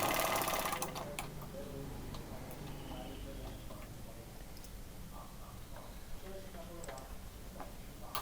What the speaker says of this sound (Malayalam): പുറത്തൂടെ പതിച്ചടിക്കുക